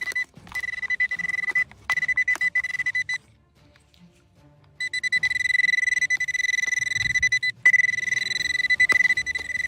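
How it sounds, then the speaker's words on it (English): A Gold Legend metal detector beeps in rapid repeated bursts of a steady high tone, pausing briefly before resuming its insistent signalling over a target close by under a stone. "Metal detector picking up signals too close."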